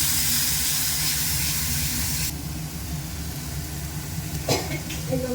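Ginger, onion and garlic paste sizzles in hot oil, a loud steady hiss for a couple of seconds that then drops to a quieter sputter with a few small clatters.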